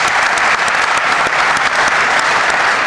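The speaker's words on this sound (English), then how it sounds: "Let's give the panel a big round of applause." Loud, dense audience applause for a panel at the close of a session, steady clapping from many hands filling the room for a few seconds with no voices over it.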